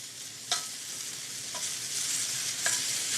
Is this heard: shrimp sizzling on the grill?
yes